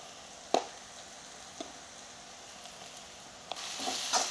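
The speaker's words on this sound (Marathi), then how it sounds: "आपल्याला हे मिरचं आपल्याला चांगलं फ्राय करून घ्यायचं आहे" Green chilies fry in hot oil with turmeric and salt, giving a faint, steady sizzle with a few soft clinks and stirring taps.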